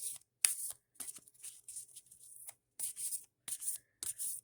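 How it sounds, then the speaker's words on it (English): A deck of oracle cards shuffled by hand in close, quiet bursts of crisp riffling and flicking, separated by short silences. "As I shuffle the deck"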